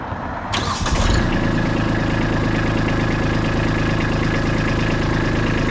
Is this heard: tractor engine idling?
yes